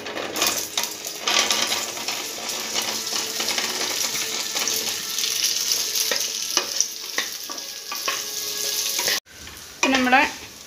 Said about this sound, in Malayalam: ഇനി ഇത് നമ്മൾ വേവിച്ച് വെച്ചിരിക്കുന്ന മുത്തുമണികൾ നമ്മൾ ഈ നെയ്യിലേക്ക് ഇട്ടിട്ടൊന്ന് വഴറ്റിയെടുക്കാം